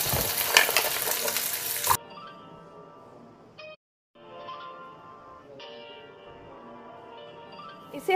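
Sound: coconut frying in oil in a kadai

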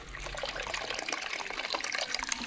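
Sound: water poured from a watering can onto a Christmas tree

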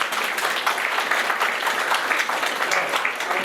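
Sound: audience applause for the authors

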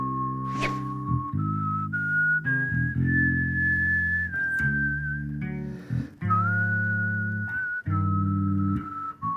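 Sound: whistling a melody in C minor

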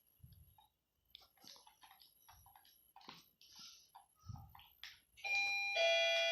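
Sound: doorbell ringing in a video game

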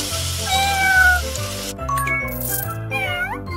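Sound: cat meowing in kids' superhero video game

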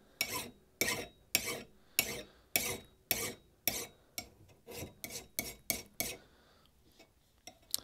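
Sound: file filing a hewing axe blade

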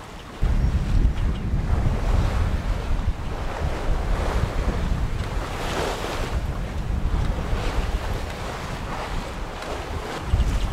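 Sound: Atlantic swell and wind on a sailing boat

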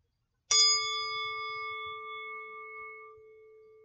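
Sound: meditation bell rung

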